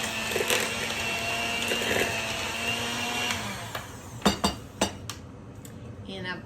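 A utensil stirs vanilla into banana bread batter in a bowl, with a soft scraping and mixing texture followed by a few sharp clinks against the bowl, close by.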